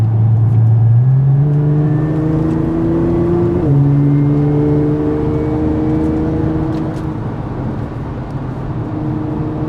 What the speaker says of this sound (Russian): Стоковый глушитель должен работать тише. Это кастомный. Тут выхлопная система заменена.